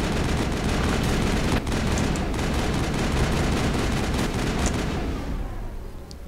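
Sustained gunfire while fighting aliens in the video game Mass Effect, dense and loud with overlapping shots and blasts for about five seconds before tapering off.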